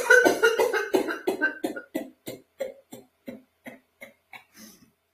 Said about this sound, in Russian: Давайте подкашляем немножечко.